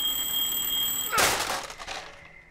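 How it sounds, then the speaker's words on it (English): A booby-trap buzzer sounds in a cave in the video game Firewatch. A steady high electronic tone gives way to a sudden loud harsh burst that decays into a fading rattle, with no talking. "Why would there be a buzzer?"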